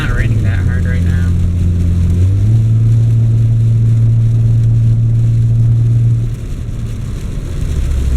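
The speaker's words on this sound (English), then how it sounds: "Driving on the highway in the rain right now." Car cruising on a highway in light rain, a steady low road and engine rumble with a sustained drone running throughout, heard from inside the cabin.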